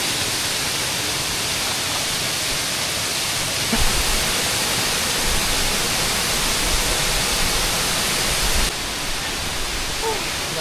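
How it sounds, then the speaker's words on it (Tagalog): Cagbuanga waterfall in El Nido, Palawan, a dense, unbroken roar of falling water, loud and close, holding steady throughout with little change. "Ito na yung Kagbuanga Waterfalls!"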